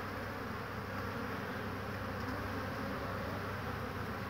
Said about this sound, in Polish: pszczoły bardzo, bardzo intensywnie latają